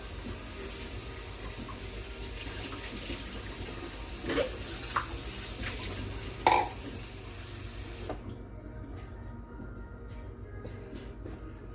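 Warm water runs steadily from a tap with a soft, continuous splashing, a few brief clinks over it before the flow stops, while pupusa dough is being prepared.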